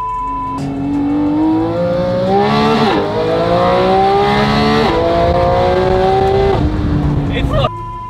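A Porsche GT4 RS with aftermarket exhaust pipes is pulled hard toward 9,000 rpm; the engine screams in a loud, rising wail, drops briefly between gears, then bounces off the rev limiter before cutting off sharply.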